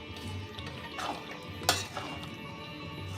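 Potato curry stirred in a pan with a utensil, soft scraping and a single sharper clink over a quiet simmering hiss, close and gentle.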